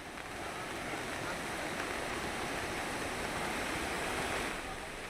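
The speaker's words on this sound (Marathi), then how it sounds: "जामनेर तालुक्यातल्या या वाकी नदीला पूर आलेला आहे" The flooded Waki river in Jamner taluka, Jalgaon district, swollen by heavy rain, rushes past in a steady broad roar of churning water, constant and moderately distant with no pauses.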